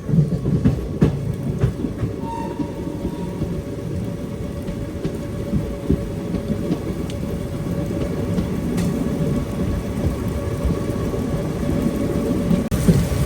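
Sai Nagar Shirdi–Tirupati Express running through a small forest between Koduru and Renigunta, a continuous low rumbling roar with rattling wheel clatter, steady and close throughout, no voices.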